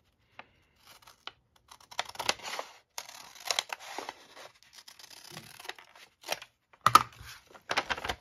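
Scissors snip through folded paper while shaping a handmade envelope: close, quiet cuts and crinkles arriving in short irregular bursts, with no talking.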